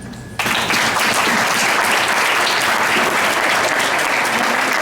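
Loud, sustained applause from an audience at a Lakewood, New Jersey board of education meeting, breaking out abruptly after a brief quiet moment and continuing steadily in a dense, even wash of clapping.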